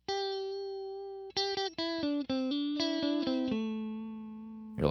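An electric guitar through a vibrato pedal with reverb plays a short sequence of sustained notes, each wavering in pitch and trailing into a wash of reverb, clean and alone with no talk.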